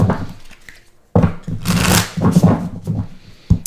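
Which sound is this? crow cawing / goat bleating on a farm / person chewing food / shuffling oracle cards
shuffling oracle cards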